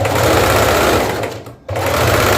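An electric sewing machine runs loud and close, stitching a lining onto fabric in a fast steady whir, with a brief pause before it resumes.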